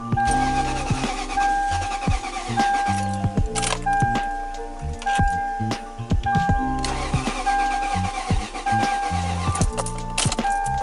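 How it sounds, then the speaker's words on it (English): A Lexus LS400 with a weak, dying battery cranks repeatedly without catching: loud, close starter whirring in several long bursts separated by short pauses, with a warning chime ringing over it. "So, yet another failed attempt at video to get this car started"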